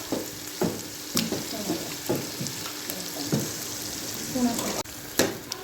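Mustard greens for sarson ka saag hiss and sizzle in hot spiced tempering, with a spoon scraping and clanking against the pot at roughly one-second intervals, close and clear.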